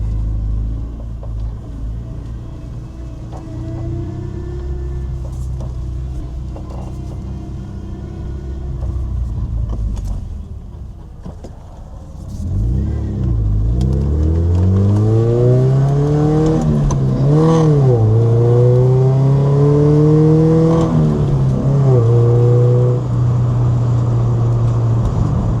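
A 1996 Nissan 240SX engine runs with a power steering whine that is almost low on fluid; steady idle rumble, then rising and falling revs with a whine tracking the engine, loud and close.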